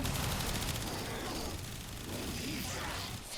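Rapid, dense burst of automatic gunfire from a companion sentinel in the sci-fi shooter Warframe, a continuous loud crackling volley lasting a few seconds with no pauses.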